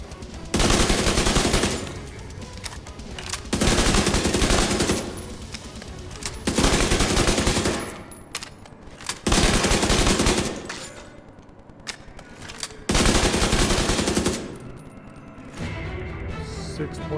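UMP-45 submachine gun in The Division 2 fires in repeated long automatic bursts, each about a second or two, separated by brief pauses and reload clicks, loud and close.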